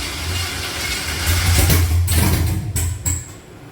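A 5.3 V8 swapped into a third-generation Camaro revs briefly, a low engine rumble swelling up from idle with a couple of quick blips of throttle, fairly close and alone.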